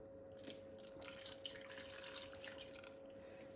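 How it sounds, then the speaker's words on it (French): A small amount of water is poured steadily into a pan of simmering beef skin and onions, a soft continuous trickle with a faint steady hum beneath it and no talking. "je vais rajouter juste un peu d'eau et puis couvrir et laisser mijoter à feu doux"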